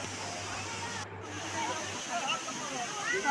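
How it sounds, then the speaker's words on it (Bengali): A waterfall tumbles down a hillside, giving a steady, close, broadband rush of falling water that continues without a break for the whole stretch. "না এটা ঝর্ণার আওয়াজ।"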